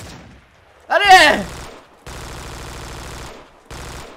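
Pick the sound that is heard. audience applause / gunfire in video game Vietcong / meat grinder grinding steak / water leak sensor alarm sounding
gunfire in video game Vietcong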